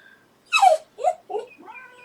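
A dog whimpers near a cat with a run of short, high whining yelps that rise and fall, close and clear in a quiet room.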